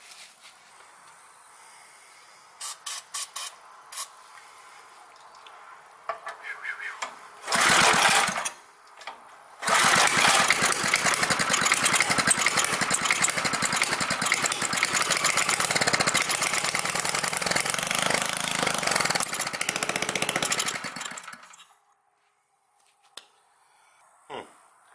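Rototiller gasoline engine with a choke problem: after a few sharp pulls and clicks, it sputters briefly, stalls, then catches and runs loud and steady for about ten seconds before dying, leaving quiet clicks.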